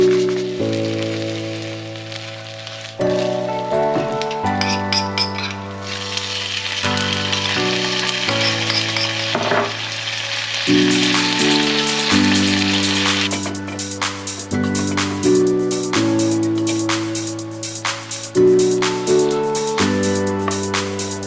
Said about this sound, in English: And now I'm going to fry some egg.